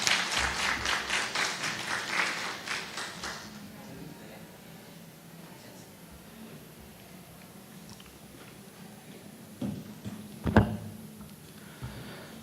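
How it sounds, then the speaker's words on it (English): Brief round of rhythmic clapping from a small academic seminar audience for a presenter, fading out after about three seconds into quiet room noise with a few scattered knocks. "let's give the applause for Mas Jamaluddin."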